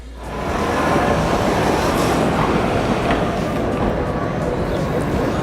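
A leopard-painted city tram runs past with a steady, loud rumble of wheels and motor on rails that holds from start to finish, with no voices over it.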